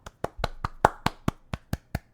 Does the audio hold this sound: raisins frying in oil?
no